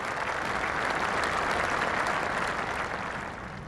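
Warm, sustained applause rolls from packed golf grandstands around the 18th green at Royal Lytham & St Annes during the 2012 Open, a steady dense patter that eases slightly toward the end.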